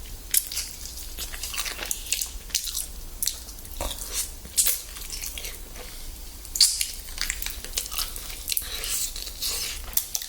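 Crispy fried chicken being bitten and chewed during a mukbang, close crunches and moist squishy chewing at an irregular pace over about ten seconds, with sharper crackling bites standing out now and then.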